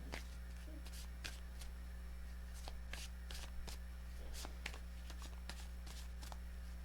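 Tarot cards are shuffled in several quick riffling bursts with pauses between, close and fairly soft over a steady low hum, no voice.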